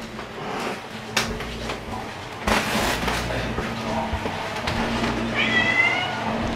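A cat meows a few times in a quiet room, fairly close, with soft knocks and background noise between the calls.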